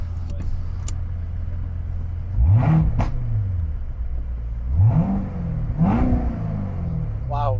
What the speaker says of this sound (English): There's a nice supercharged whine in it too.